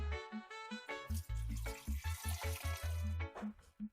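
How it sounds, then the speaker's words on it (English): Toasted coconut rum mixture pours into a bag set inside a container, a gurgling, glugging liquid stream with uneven bubbly pulses, close and fairly clear with no talk. "I'm just going to pour it into the bag"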